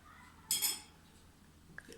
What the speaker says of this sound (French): Je prends une cuillère à soupe avec de l'eau dans un verre.